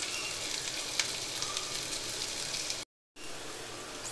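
Chopped onions frying in a pan for a Schezwan chicken lollipop recipe, giving a steady, close hiss of sizzling with a brief dropout near the end and no voices.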